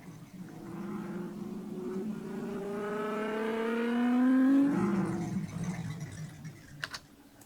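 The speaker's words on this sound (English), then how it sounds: "there's this one riser that is just a car sound," A car engine revs up in a rising sweep that climbs steadily in pitch and loudness, then cuts off abruptly with a few faint clicks after.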